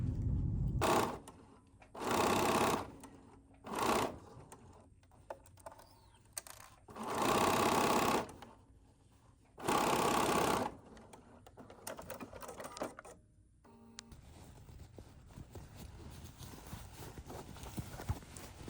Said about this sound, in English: all that's left is going to be some simple top stitching to secure that lining piece